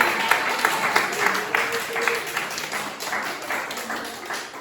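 A church congregation applauds during a Sunday service, with a close, steady patter of many clapping hands while voices murmur underneath.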